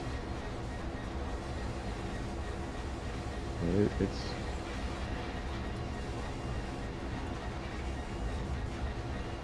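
A train rolls along in a train driving simulator game, a steady low rumble with a brief squeal, while someone talks over it.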